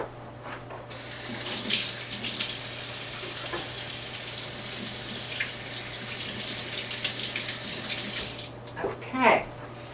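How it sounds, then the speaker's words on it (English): A kitchen tap runs steadily as hands are rinsed after handling caramel cookie dough, a loud, continuous close-up hiss of water lasting several seconds before cutting off, followed by a brief voice. "now I'm going to rinse my hands here, wash my hands just a little bit"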